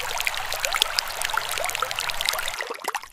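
Water seeps and trickles into a hole an elephant has dug in dry desert ground, a soft continuous gurgle with faint drips, close and alone.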